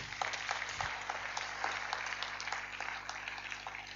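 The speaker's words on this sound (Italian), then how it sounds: "Prendiamoci questo applauso" Audience applauding at a Rotary International District 2060 assembly in Vicenza as Mario Gabossi is introduced, a steady dense clapping that fills the hall from start to finish without letting up.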